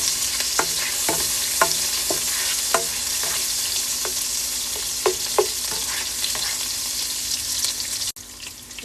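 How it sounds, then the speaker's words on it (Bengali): Cardamom, cinnamon and cloves fry with onions in a pan, giving a loud, continuous sizzle with light stirring taps scattered throughout, then a sudden drop near the end. "এটাও পেঁয়াজের সাথে ভাজা ভাজা হবে।"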